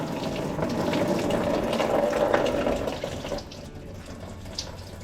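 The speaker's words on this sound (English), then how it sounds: "I hope this is a coolant drain." Coolant drains from the engine block drain of a Ford 6.4 Powerstroke diesel in a steady, close gushing stream of liquid that thins and quiets after about three seconds, with no talking.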